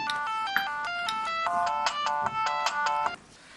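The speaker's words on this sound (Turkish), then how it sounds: "Telefonun." Mobile phone ringtone playing a bright, repeating melodic tune of quick electronic notes, loud and close, stopping abruptly after about three seconds.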